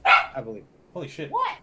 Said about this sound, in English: That was my dog.